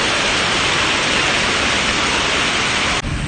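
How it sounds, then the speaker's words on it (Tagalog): Dense, steady hiss of heavy rain pouring down without pause, loud and close, shifting slightly near the end. "Grabe lakas talaga ng ulan."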